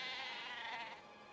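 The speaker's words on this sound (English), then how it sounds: "Oh, sheep. Can I just kill the sheep?" Sheep bleat in the video game Oblivion Remastered: one drawn-out, wavering bleat, close and clear, fading slightly toward the end with no talking over it.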